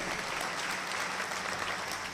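Loud, dense applause from a church congregation fills the whole stretch, steady and continuous with no break and no voices over it.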